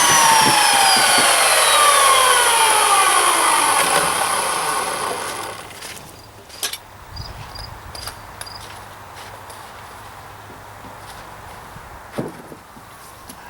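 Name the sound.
saw cutting wooden rim joist for shed floor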